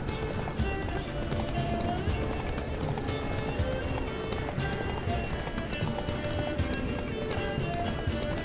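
A horse gallops in The Witcher 3 video game, rapid continuous hoofbeats layered with game music and ambience, steady and loud throughout without spoken words.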